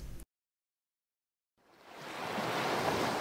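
Cartoon sea waves wash onto the shore, a steady broadband surf that swells in from silence and holds loud and close for the rest of the moment, with no voices.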